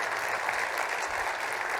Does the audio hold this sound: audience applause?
yes